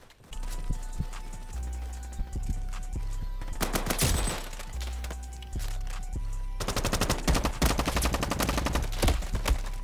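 Constant automatic gunfire in the Roblox game Frontlines, loud and close, with rapid bursts overlapping into a dense, unbroken barrage that intensifies toward the end, backed by a low rumbling game soundtrack.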